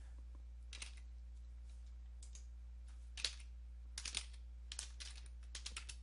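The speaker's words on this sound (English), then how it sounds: "So you want to type in at this point cd" A command is typed on a computer keyboard in a Windows 10 repair setting, with a handful of soft, close key clicks in small irregular bursts. The room is otherwise quiet apart from a low steady hum.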